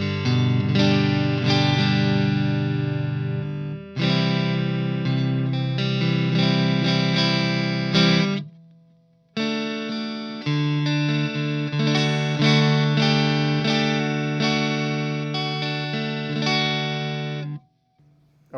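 An electric guitar rings out through a Bad Cat Cub 30-watt amp with its reverb switched off, strummed chords in two phrases split by a short pause, each closing on a decaying note.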